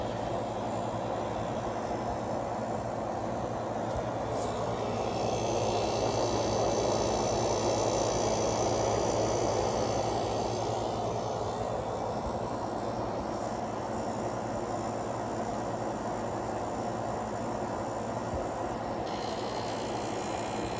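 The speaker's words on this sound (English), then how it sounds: "the compressor sounds how it normally would at this point. It is a little bit on the loud side" An air conditioner compressor runs steadily and a little loud, with a low mechanical drone and hum that holds constant throughout, close by and alone, while a heater blows on the unit.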